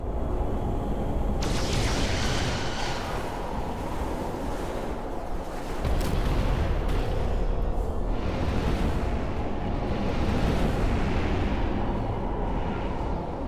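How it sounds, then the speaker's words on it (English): Photon torpedoes fire and detonate in Star Trek: Resurgence as a continuous loud rumble of blasts and roaring wash, with a sharp burst around the middle, all sustained without pause. "Target the bioforming ray. Fire photon torpedoes."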